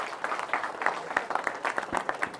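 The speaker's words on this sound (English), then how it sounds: "Can I have a round of applause for yourself?" Seminar attendees at a university session give themselves light, scattered applause, individual claps audible in a thin uneven patter rather than a full ovation.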